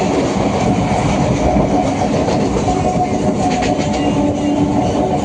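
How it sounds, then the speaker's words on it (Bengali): A train at Tarakeswar station, near and loud, with a steady rumble and rail clatter throughout and no talk. "আমাদের ট্রেন খুব তাড়াতাড়ি চলে এসেছে"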